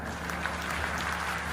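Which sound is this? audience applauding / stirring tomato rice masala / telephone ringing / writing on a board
audience applauding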